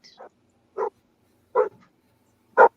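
A dog barks four times, short separate woofs spaced about a second apart against an otherwise quiet background.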